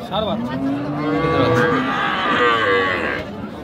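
A Friesian cow moos loudly and close by at a busy cattle market in Raniganj, Dinajpur. It is one long, drawn-out bellow lasting several seconds, with faint market noise beneath.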